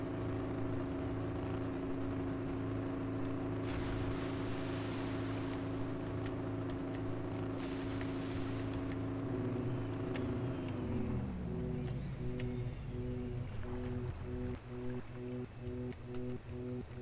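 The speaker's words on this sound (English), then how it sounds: "this buoy is making a noise and it's pretty funny" A buoy in the eSail sailing simulator game gives off a steady, droning tonal hum over constant water and wind ambience, then the pitch bends downward and settles into a pulsing pattern.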